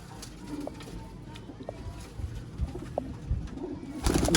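Sialkoti pigeons coo in soft, low, repeated calls amid a busy loft with scattered rustling and background noise, with a louder burst of movement near the end.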